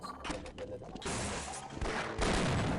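Bursts of gunfire from the video game Half-Life, irregular and layered, with players speaking over the shots.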